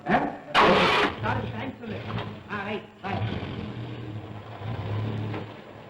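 A car engine cranks and catches in a short burst, then settles into a low, steady idle rumble while people talk over it close by.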